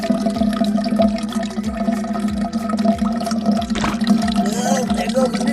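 Vinegar pours and splashes out of a container of ramen noodles, a steady liquid gush with rhythmic glugging pulses, fairly loud and close.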